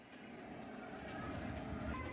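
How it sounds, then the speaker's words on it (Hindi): A metro train passes at a distance, heard from a rooftop garden as a faint, steady low rumble and rolling hum lasting a couple of seconds. "ये देखो मेट्रो आ गई।"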